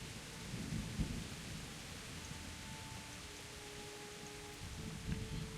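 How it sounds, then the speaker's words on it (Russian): Steady rain hiss with low rumbling thunder in the video game Kingdom Come: Deliverance, continuous and fairly loud, with a couple of heavier booms. "Не, ну дождь, конечно, убого сделан."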